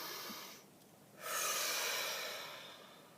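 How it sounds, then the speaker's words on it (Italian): A single deep breath, a soft inhale followed by a longer, louder airy exhale that fades out gradually, close to the microphone with no talking. "facciamo un bel respiro profondo"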